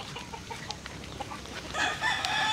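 Heritage chickens on a two-hectare farm in Cebu cluck in a busy scatter of short calls, then a rooster's crow rises loud and drawn-out near the end, with other birds chattering around it.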